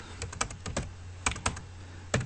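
Keys clack on a computer keyboard with caps lock on, a quick run of close, crisp taps in uneven bursts with short pauses, heard alone over a low steady hum.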